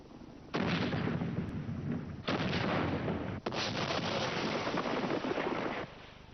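Sustained artillery bombardment of the besieged British garrison at Mafeking, with long bursts of heavy booming gunfire and a brief pause between volleys, loud and continuous without speech.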